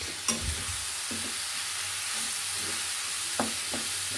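Winter vegetable bhaji with coriander leaves being stir-fried in a pan, a soft continuous sizzle with a few sharp spatula taps and scrapes, close and unaccompanied by speech.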